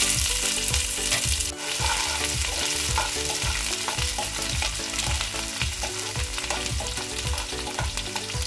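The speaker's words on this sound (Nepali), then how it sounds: "लसुन गोल्डन भएपछि प्याज राख्ने।" Onion frying in hot oil with garlic and red chili, a loud, dense crackling sizzle with rhythmic scraping stir strokes throughout, no talking.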